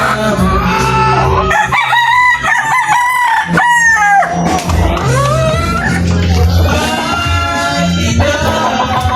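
Gamefowl rooster from a Raptor bloodline crowing loudly and close, repeated strained cock-a-doodle calls with other fowl clucking and crowing around it in a busy farmyard.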